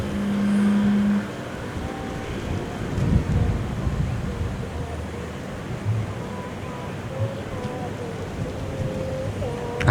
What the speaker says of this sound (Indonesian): Ini ngeri banget anginnya.